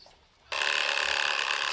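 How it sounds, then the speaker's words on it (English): An old telephone bell rings loudly and continuously after a brief quiet moment, a close, bright metallic trill. "Ringing the police department."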